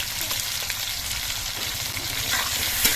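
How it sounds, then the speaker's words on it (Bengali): Potato pieces frying in hot oil in a pan while being stirred, giving a steady, close, continuous sizzle with faint scraping of the spoon and no talk. "আলুটা এবার বেশ কিছুক্ষণ নাড়াচাড়া করে কিন্তু ভেজে নিতে হবে"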